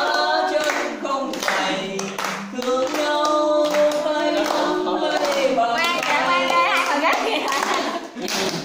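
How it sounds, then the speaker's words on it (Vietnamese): An audience claps loudly and steadily at a children's Mid-Autumn festival in Dak Lak, while children's voices and singing carry over the applause throughout. "người vỗ tay cũng say sưa vỗ"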